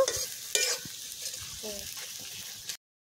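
Sliced onions sizzling in a pan as they brown for a home-style goat meat curry, a steady close frying hiss with occasional stirring scrapes, cutting off abruptly near the end.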